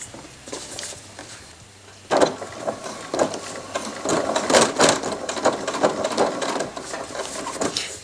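A sewing machine stitches a shirt, parka or jacket sleeve, with part of the work table removed, its mechanism running in bursts of rapid rattling that grow louder and steadier after the first couple of seconds, close to the listener.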